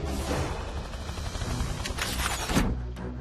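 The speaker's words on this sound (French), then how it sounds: "J'ai entendu l'explosion, qu'est-ce qui se passe?" Cartoon explosion from the Transformers Rescue Bots Academy animated series: a sustained roaring rush of noise that swells into a heavy crash near the end before cutting away.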